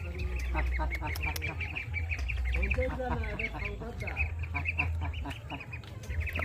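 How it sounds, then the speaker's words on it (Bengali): Ducks quack repeatedly and fairly close, a busy overlapping chorus of honking calls with a low rumble underneath, while a person speaks intermittently among them. "কত সুন্দর হাঁসগুলো।"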